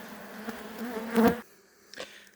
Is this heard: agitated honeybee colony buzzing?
yes